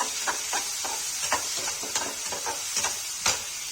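Onions browning in a pan with ground ginger and garlic for a Kashmiri mixed vegetable dish, a steady close sizzle broken by scraping stirs at irregular intervals.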